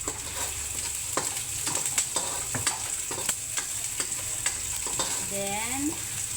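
Garlic and onion frying in a pan for vegetable kare-kare, a steady close sizzle broken by sharp scrapes and clinks of a utensil stirring, with a short whistling tone near the end.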